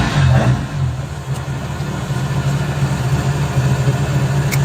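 A Mk2 Ford Escort with a Harris-built engine runs loud and close, a rough, lumpy idle with a steady throbbing pulse and a brief blip of revs at the start.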